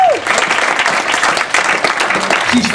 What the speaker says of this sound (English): Give that girl a round of applause anyway.